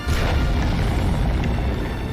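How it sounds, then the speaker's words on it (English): A loud cartoon nuclear explosion from a SpongeBob episode, a sustained, thick low rumble that holds steady for the whole span with no voices over it. "He flies over SpongeBob's castle and drops a freaking nuke on it."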